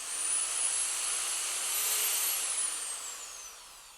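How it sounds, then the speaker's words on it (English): High-pitched whine of a small power sanding bit spinning inside fishing rod ferrules during a retro rod build, a steady close-up buzz that rises slightly in pitch midway and then fades gradually. "run the sanding bit around the inside."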